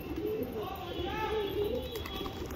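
Pigeons cooing near a large water tub, soft repeated throaty coos close by, fairly quiet, with a steady high hiss in the background.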